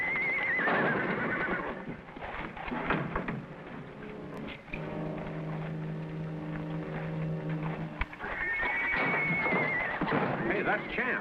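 A horse whinnies loudly near the start and again near the end, with rising, trembling calls, while voices talk and a steady low drone runs through the middle.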